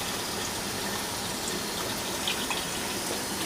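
Pump pulling sand-contaminated diesel from a construction site through an SFD fuel purifier, a steady rushing liquid gush with faint mechanical whir, continuous and moderately quiet.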